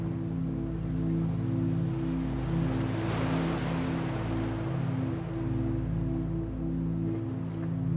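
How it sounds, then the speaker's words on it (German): Ocean waves wash and rush onto a sandy beach in a steady, soft surge that swells briefly midway, blended with a low sustained musical drone and no talking. "rauschende Wellen."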